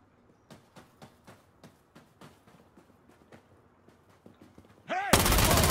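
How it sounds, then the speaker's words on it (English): Gunfire in the video game Insurgency: Sandstorm, a steady string of evenly spaced rapid shots ringing out one after another, ending in a sudden loud wash of noise. "Love this gun."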